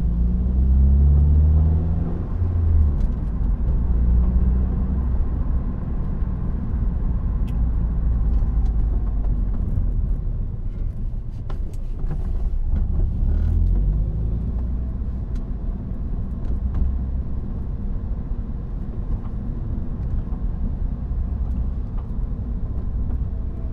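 A car drives along the road toward Abergele with a continuous, loud low rumble of engine and tyres. The sound swells and eases slightly through the drive, with faint interior clicks and no speech.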